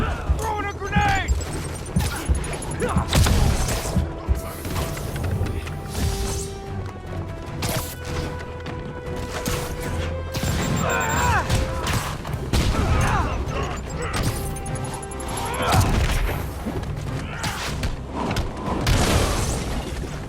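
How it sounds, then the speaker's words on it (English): A grenade is thrown and explodes during Marvel's Spider-Man gameplay on PS4, with loud booms and crashes amid dense combat noise, whooshes and impacts over about twenty seconds, while characters shout throughout. "Throwing a grenade!"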